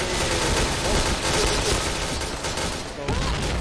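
Rapid bursts of gunfire in the video game Point Blank crackle continuously and loudly, dense and sustained, with faint voices beneath.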